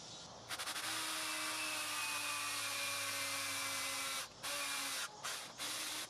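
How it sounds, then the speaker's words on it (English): A steady, high-pitched power drill whirs continuously while drilling a hole in Kawasaki Z125 motorcycle handlebars, with a couple of brief pauses and restarts near the end. "and get your drill out"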